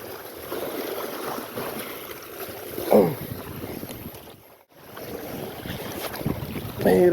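Steady wind buffets the microphone at the shore, with a low rushing roar that dips briefly before gusting back.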